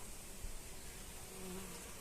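A steady bee buzz hums continuously, bees hovering close by around a rose bush, with a faint rising drone partway through and no voices.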